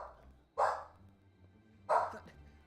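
Two separate barks from a single dog in a video game, each short and fairly loud, spaced about a second and a half apart over a low ambient hum.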